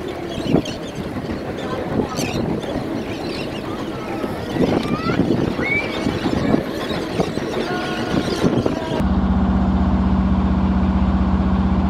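A steady boat engine drone runs under wind and splashing water, heard from the bow on a crossing from Gargaú to São João da Barra, Brazil, with people talking over it; near the end the drone continues alone with a low hum.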